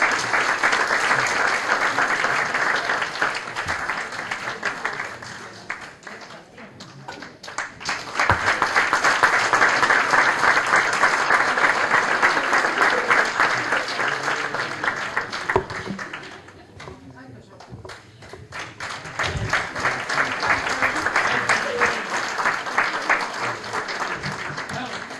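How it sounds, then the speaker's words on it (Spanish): Crowd applause at a festival queen coronation in El Berrón, long swells of many hands clapping that fade and return in three waves, with voices mixed in. "Un aplauso"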